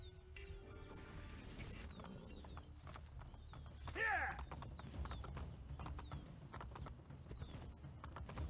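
Hooves clip-clop in a quick, steady rhythm as a horse gallops across a bridge in Assassin's Creed Brotherhood, a short whinny rising midway, with faint game sounds around it.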